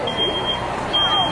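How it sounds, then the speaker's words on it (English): A smoke detector sounds during a fire sprinkler demonstration, giving a thin high electronic tone in short bursts over background murmur and noise. "The smoke detector went off real quick."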